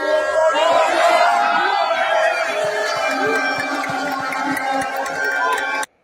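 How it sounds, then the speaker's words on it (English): A large political rally crowd cheers and chants with a sustained, loud roar that holds steady before cutting off abruptly near the end. "This is what we call organic crowd"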